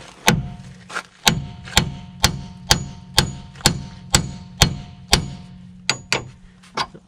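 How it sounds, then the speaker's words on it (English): A hammer strikes the steering knuckle of a 1993–97 Toyota Corolla to free a tie rod stud, about fourteen sharp metallic blows in a steady rhythm, each ringing briefly, loud and close. "I'm just going to hammer on the knuckle and the vibrations will break the stud free from the knuckle"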